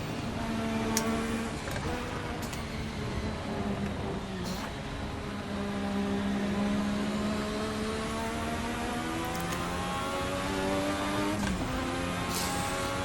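A 1986 Formula RSS V6 race car engine in Assetto Corsa, a high-pitched harmonic whine that rises and falls through repeated revs, with several sharp clicks from gear changes cutting through the steady loud drone, with no talking.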